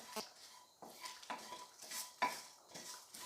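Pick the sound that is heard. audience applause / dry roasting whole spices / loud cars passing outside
dry roasting whole spices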